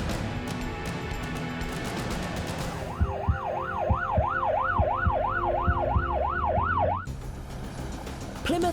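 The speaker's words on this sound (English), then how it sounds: "Plymouth ambulance crew Lisa and Lindsay are heading out across Dartmoor" An ambulance crosses Dartmoor on an urgent call, its siren wailing in a fast, regular rising-and-falling pattern for several seconds over engine rumble, with cabin noise before and after.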